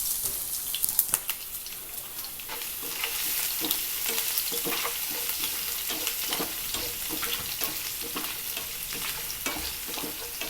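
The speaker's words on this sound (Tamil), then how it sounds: "ரெண்டையும் ஒன்றா சேர்த்து வதக்கிக்கலாம்." Finely chopped garlic and ginger sautéing in a pan, a steady bright sizzle with repeated scraping stirs of a spatula, close and continuous with no talking.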